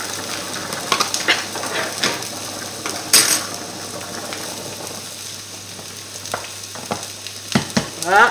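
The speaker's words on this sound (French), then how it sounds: "notre purée de pommes de terre cuit tranquillement" Potato purée cooking gently in a pan, with a soft steady sizzle and occasional clinks and scrapes of a utensil against the pan, close and fairly quiet.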